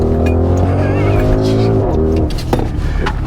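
A 2023 Audi RSQ8 in dynamic mode accelerates hard on snow tires in cold weather. The close engine roar climbs through the gears with a sharp shift break partway through, and faint speech sits underneath.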